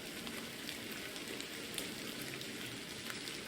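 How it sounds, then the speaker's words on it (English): Steady rain from the video game The Excavation of Hob's Barrow, a constant close hiss of drops pattering on surfaces with no breaks or voices. "I'm glad the rain doesn't put you off."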